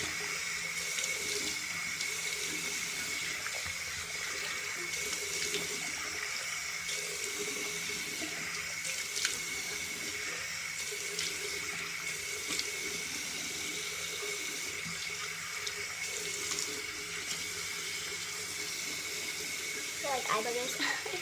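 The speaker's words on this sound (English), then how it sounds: "rinsing it all off now." Water runs steadily from a sink tap while face cleanser is rinsed off. The stream splashes continuously at moderate level, with small shifts as hands move through it.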